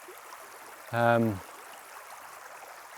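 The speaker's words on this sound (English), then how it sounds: "Birds and water. The two nicest sounds on the planet, I think." River water flowing steadily outdoors among wild garlic and bluebells, an even, moderately faint rush that continues throughout while a person briefly speaks over it.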